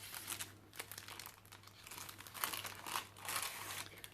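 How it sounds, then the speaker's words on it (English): Tea-dyed parchment paper crinkles and rustles steadily against a junk journal card, close and fairly soft, in bursts of crisp, uneven crackling with no talking. "I decided to glue some tea dyed parchment paper onto the back of it, so it has a lovely, makes a lovely sound"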